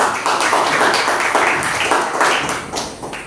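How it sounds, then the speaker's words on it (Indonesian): Classroom of students clapping for a group after a maths problem is solved, a dense patter of hands filling the room for a few seconds, steady and fairly loud, then tapering slightly. "Tepuk tangan dulu untuk kelompok"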